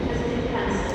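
Train at London Victoria station, a steady broadband rumble of rolling stock heard up close, continuous and fairly loud, with no talking.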